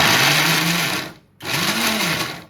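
A kitchen mixer grinder whirs loudly in two short bursts on gongura leaves, each motor run ending abruptly with a brief pause between them.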